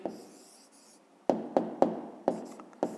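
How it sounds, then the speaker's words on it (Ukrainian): Pen or pencil writing a maths answer by hand on paper, a steady scratching stroke followed by several short, close, crisp strokes in an irregular rhythm, with no voices. "Пишемо внизу відповідь."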